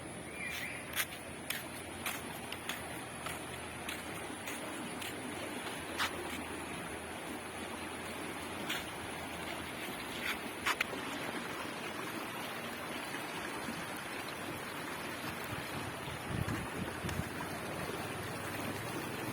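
A strong river current rushes beneath a narrow bridge over deep water at Parappanangadi, a steady close broadband roar of flowing water with a few faint ticks and knocks scattered through.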